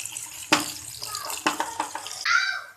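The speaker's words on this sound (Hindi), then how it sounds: "अच्छे से ठंडे पानी से इनको धो लेंगे।" Cold tap water pours and splashes over freshly boiled pasta being rinsed in a kitchen, a steady close running-water wash broken by a few louder splashy bursts.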